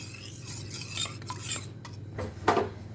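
A spoon stirs custard powder into cold milk in a bowl, giving repeated scraping clinks against the sides at close range with no voices.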